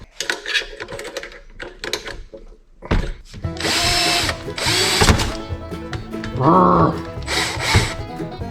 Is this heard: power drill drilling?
yes